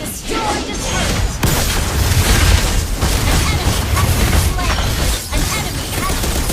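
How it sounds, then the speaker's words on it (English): Booming explosion of a turret being destroyed in a mobile MOBA game, a dense, loud, sustained blast layered with game effects and chatter-like noise across the whole stretch. "Your team destroyed a turret."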